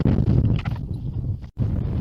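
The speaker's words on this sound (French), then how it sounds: "Et le vent, il souffle très très fort." Strong wind blowing hard on a hillside near Monemvasia, roaring and buffeting against the microphone in loud, rough gusts with a brief drop near the end.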